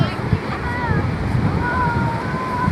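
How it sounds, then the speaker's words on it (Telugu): Sea waves roll in at Rushikonda Beach in Visakhapatnam, a steady, dense roar of surf with wind buffeting the microphone and a voice faintly underneath. "చాలా భయంకరంగా వస్తున్నాయి అలలు."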